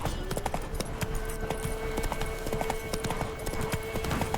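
In The Witcher 3, the horse Roach gallops with rapid, rhythmic hoof clip-clops pounding steadily and close, over a low outdoor rumble.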